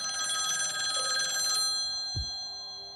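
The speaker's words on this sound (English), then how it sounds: "receives a phone call" Telephone bell ringing in rapid repeated trills for about a second and a half, then stopping, followed by a single dull thump; moderately quiet and alone.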